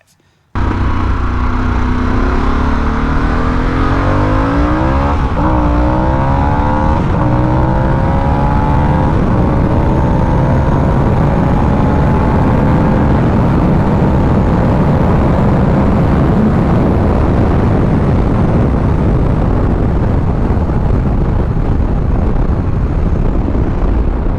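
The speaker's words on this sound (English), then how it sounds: "This bike does not slow down until red line." A Harley-Davidson Sportster S V-twin motorcycle pulls hard in fifth gear toward its speed limiter, a loud continuous engine roar with rising revs and heavy wind rush that persists for the whole stretch.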